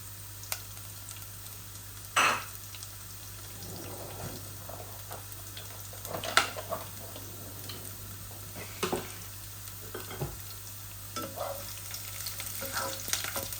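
Garlic fries in a pan with a soft, steady sizzle, broken by a few sharp utensil clinks and scrapes, with no one talking.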